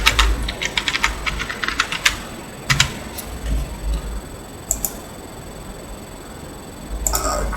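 Someone types a password on a computer keyboard while setting up a Microsoft Server 2016 system: quick, irregular bursts of close key clicks with short pauses between them and no talking.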